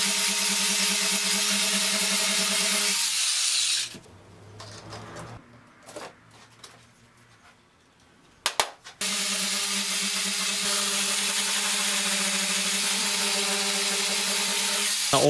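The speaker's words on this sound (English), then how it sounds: "we follow that 80, 120 and 240 grit, and then you come in to finish off with a hand sand." A power sander works a cricket bat through 80, 120 and 240 grit sandpaper. The steady, loud whirring runs for about four seconds, drops out into a quieter stretch with scattered knocks, then returns for the last six seconds.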